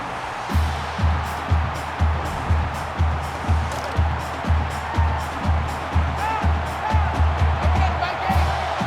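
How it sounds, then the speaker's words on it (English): Stadium crowd roaring in the NCAA 14 college football video game, Minnesota at Ohio State, a steady dense crowd noise with rhythmic pulsing chants and claps throughout. "This crowd can really be intimidating for an opposing team."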